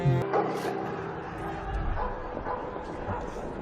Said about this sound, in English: Come on, doggy. Find them, doggy.